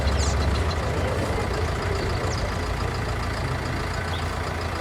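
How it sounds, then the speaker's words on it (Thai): A Ford tractor engine runs in Farming Simulator 19, a steady low diesel rumble that drones on without a break for the whole stretch, with no talking over it. "เดี๋ยวได้พี่เอารถไถออกก่อน"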